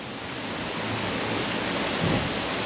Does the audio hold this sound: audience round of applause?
no